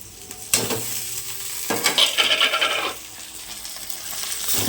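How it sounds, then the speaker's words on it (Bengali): Ginger garlic paste hitting hot oil in a pan for a paneer biryani, a close sizzle that flares up suddenly, crackles and spatters for a couple of seconds, then settles to a softer hiss. "আদা রসুনের পেস্টটা দিয়ে দিলাম।"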